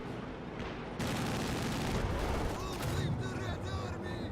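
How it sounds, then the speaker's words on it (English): Mortar fire in the Company of Heroes 2 strategy game, with dense booming and crackling blasts running continuously over a rumbling battlefield din, loud and close. "More mortar shots."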